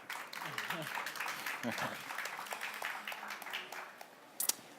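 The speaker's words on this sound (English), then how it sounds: "please welcome them with an applause" An audience welcomes speakers to a Creative Commons talk with fairly soft, scattered applause. It is mixed with murmuring and dies down toward the end, where a brief sharp sound occurs.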